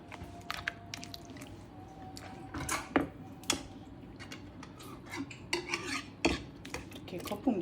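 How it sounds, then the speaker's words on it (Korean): Eggs whisked into melted cream and sugar in a bowl for a Basque cheesecake, metal utensil clinking and scraping against the bowl in quick irregular strokes, close and moderately loud, with no talking. "생크림과 설탕을 녹인 거에 계란하고 일단 믹스를 해주면 됩니다"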